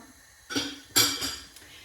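A metal utensil clinks sharply against a bowl a few times while ingredients for Chinese-style chicken are mixed, close and moderately loud in a quiet kitchen.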